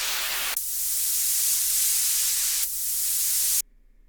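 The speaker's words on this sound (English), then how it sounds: "Yeah, nice little white noise on." A white noise downlifter effect in FL Studio: a bright hissing wash that plays twice, sweeping downward after each sharp onset, then cuts off abruptly into near silence.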